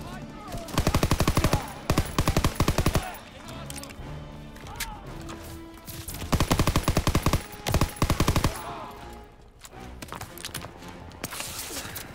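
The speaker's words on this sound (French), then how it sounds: "Impossible d'avancer, ces mitrailleuses tirent sur notre position." Machine guns hammering in Call of Duty WWII during the Normandy landing: rapid bursts of automatic fire, loud and repeated in clusters, over a continuous layer of other battle sounds.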